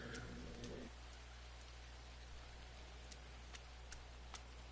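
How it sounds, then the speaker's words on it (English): Steady rain falls through a forest under low clouds, a dense even patter close by, with a few louder drops and a faint low hum running beneath. "I wonder if you get above the clouds, if it just stops raining."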